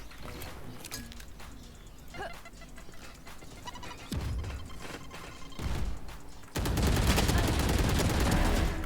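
Rapid automatic gunfire from a Valorant match on the Ascent map, with a Raze player in the fight: scattered shots give way to a dense, loud, sustained burst near the end, and a voice is faintly present.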